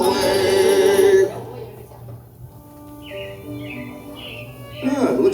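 Animated robins in Disney's Carousel of Progress show chirp in a few short, bright, repeated tweets midway through, following a voice and preceding more talk, all heard indoors at close range.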